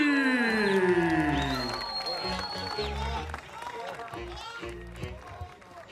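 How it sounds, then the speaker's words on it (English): Crowd cheering and whooping in a boxing arena in Riyadh after a professional debut win, loud rising shouts and whistles that taper off, mixed with a commentator's voice. "taking the acclaim of the crowd, who absolutely loved that"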